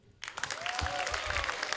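Steady, dense clapping from a debate audience begins abruptly and carries on throughout, close and fairly loud, with a faint tonal squeal underneath.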